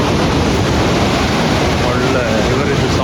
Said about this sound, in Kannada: ಒಳ್ಳೆ ರಿವರಿದ್ದು ಸೌಂಡ್ ಇದೆ